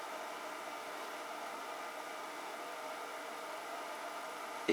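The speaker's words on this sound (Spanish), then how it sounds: "al ventilador ya le cuesta funcionar" A small electric fan with its voltage turned down on a potentiometer speed control runs slowly, giving a steady, faint whirring hum that does not change, with no talking.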